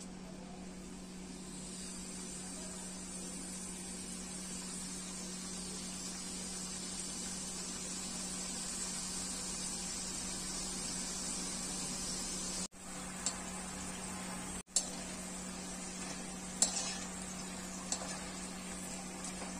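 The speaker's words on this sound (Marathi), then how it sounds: "त्रिकोणी आकाराच्या ह्या ज्या पुऱ्या आहेत त्या आता तेलात सोडत आहे" Triangular khari puris frying in hot oil over a low flame, a steady broadband sizzle and hiss that keeps going throughout, with a few brief knocks and clicks near the end.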